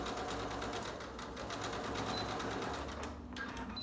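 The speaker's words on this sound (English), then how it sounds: "I'm going to go ahead and try to line up my stitches as best as I can" A sewing machine stitches a handmade fabric mask, a loud continuous close whirring hum with a rapid needle rhythm running through the whole stretch.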